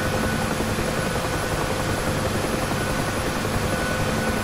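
UH-1H Huey helicopter in flight during a left roll in the DCS flight simulator, a steady loud rotor and turbine roar with dense broadband wash and a faint rhythmic blade thump, continuous and close with no voices.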